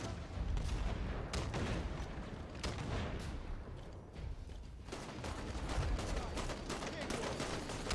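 Rapid gunfire in Halo 5: Guardians, with dense, continuous bursts of shots and mechanical clatter, loud throughout; a voice may speak in the mix.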